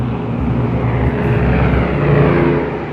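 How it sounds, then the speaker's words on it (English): Propeller-driven bomber aircraft turning away after dropping an atomic bomb over Nagasaki, a steady, loud droning engine roar that holds evenly throughout with no voices. "The two planes immediately turn to escape the blast."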